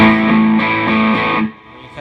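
Electric guitar played through a distortion effects pedal, a thick sustained chord with a couple of restrikes, then cut off abruptly into a short quiet tail.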